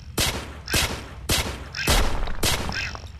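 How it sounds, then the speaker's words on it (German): Shots fired to break a stone in the mining game Mines of Mars on Android: five sharp, evenly spaced blasts, each with a short rumbling tail. "ich habe den Stein kaputt geschossen"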